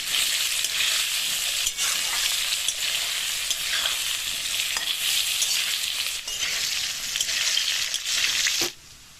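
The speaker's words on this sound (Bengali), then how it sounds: "আলুটা ওইদিকে ভাজা হচ্ছে" Potato pieces fry with salt and turmeric in a hot pan, giving a loud, even sizzle broken by occasional stirring scrapes, before the sound suddenly drops away near the end.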